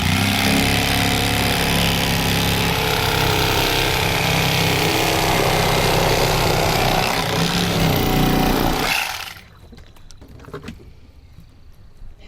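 Cheap Walmart electric knife filleting catfish, a loud continuous buzzing motor whine running steadily for about nine seconds before cutting off, leaving faint handling noises, with no talk.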